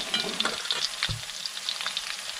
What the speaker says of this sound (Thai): กะคนไปคนมาครับคนไปคนมาให้มันสุกทั่วกันนะครับ